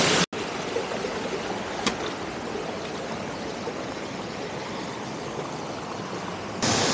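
A strong current of flowing water rushes steadily and loudly, a broad continuous roar close by that stays constant from start to finish.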